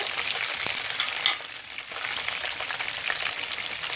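Mustard seeds, curry leaves and green chillies crackle and sizzle in hot oil for tamarind rice, a continuous close frying hiss with light stirring clatter throughout and no talk.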